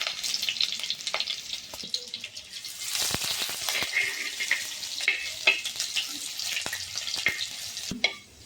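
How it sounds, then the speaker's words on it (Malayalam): Chopped onion and curry leaves frying with mustard seeds in oil for a Kerala-style karimeen fish curry, a close crackling sizzle with scattered pops and spatula scrapes, swelling louder midway and ending abruptly. "ഇപ്പോൾ ഉള്ളിയും കറിവേപ്പിലയും എല്ലാം മൂത്ത് വന്നിട്ടുണ്ട്."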